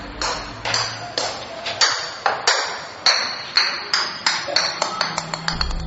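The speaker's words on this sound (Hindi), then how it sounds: "ऊपर से एक बॉल गिरते हुए नीचे आया" A ball drops down a staircase in a horror story scene, a series of bright pings and taps that bounce repeatedly, the hits coming faster and lighter as it descends, with a low background tone underneath.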